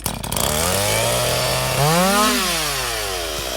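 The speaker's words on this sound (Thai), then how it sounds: "พี่หยองกำลังตัดไม้นะคะ" A chainsaw engine roars loud and close, revving upward in pitch, then holding a steady high whine as it cuts firewood.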